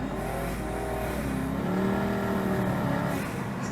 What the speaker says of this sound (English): I'll wind the window down, and hopefully you'll be able to hear it popping away.